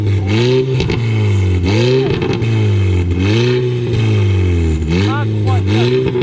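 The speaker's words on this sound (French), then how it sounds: "on termine de la même manière, par le bruit du véhicule" Audi TTS tuned to 340 hp and running on ethanol revs hard and close, the engine note climbing and falling in a quick repeated cycle of blips, with a voice briefly audible.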